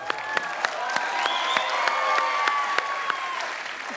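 Sustained applause from a crowd, steady and fairly loud, with a few sharper claps standing out and a tonal sound faintly underneath.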